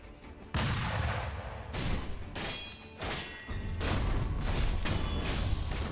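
Loud shotgun blasts from an enemy mini-boss in the video game Sekiro: Shadows Die Twice, several heavy booming shots with crashing impacts in quick succession, close and harsh, with no talking.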